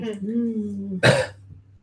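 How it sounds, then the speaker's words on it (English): A single short cough bursts out after a brief stretch of talking, then the sound fades to quiet. "just some distant cough somewhere"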